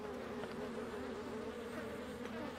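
Falling blue gas in the video game Little Big Legends makes a steady, insect-like buzzing drone, continuous and fairly faint, with no speech over it.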